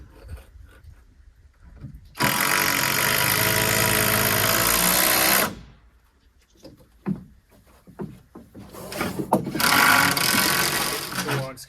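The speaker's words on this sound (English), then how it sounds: "So putting a bunch of screws in" Power drill or screw gun driving screws into the wooden framing of a cabin extension, two loud sustained bursts of a few seconds each, with a person talking and some handling noise between them.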